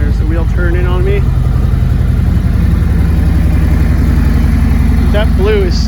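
A 2019 Harley-Davidson Street Glide Special with a Stage 1 114 engine idles in a loud, steady, lumpy rhythm close by, while a voice talks briefly over it at the start and again near the end.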